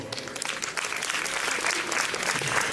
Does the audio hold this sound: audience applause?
yes